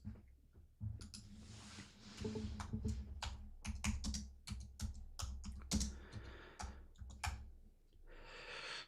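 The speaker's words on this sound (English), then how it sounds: "while my fat fingers try to do some typing here" Someone types on a computer keyboard, with quick, irregular key clicks in close, steady bursts at a soft level and no talking.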